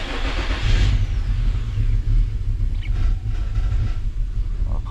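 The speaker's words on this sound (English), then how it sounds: "Our car's running like trash." An Infiniti G35 engine runs rough with a misfire, heard up close as a loud, heavy low rumble with an uneven, lumpy idle that pulses and stumbles throughout.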